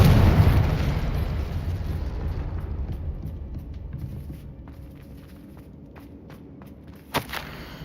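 A Confringo explosive spell goes off in Hogwarts Legacy: a loud blast at the start with a rumbling tail that slowly fades, then a sharper, smaller burst near the end.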